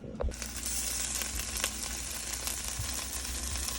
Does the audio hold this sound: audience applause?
no